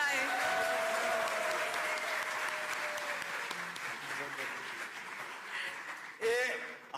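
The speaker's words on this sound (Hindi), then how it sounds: "अगर आपको ये सेशन अच्छा लगा हो तो प्लीज जोरदार तालियों के साथ सर को हम बताएं" An auditorium audience at a business talk with the chairman of Balaji Wafers gives the speaker sustained applause, with steady clapping through most of the clip; a voice speaks over it and another voice comes in near the end.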